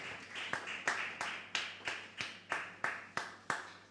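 Church congregation clapping in a steady, even rhythm, about three claps per second, close and clear with a slight room echo, no voices over it.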